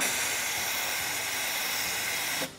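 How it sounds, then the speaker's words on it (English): A steady, loud, forceful hiss of a sandblaster spraying continuously, then stopping abruptly near the end. "Hit the blast, it has like a sandblaster,"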